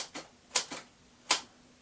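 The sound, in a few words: typewriter typing and jamming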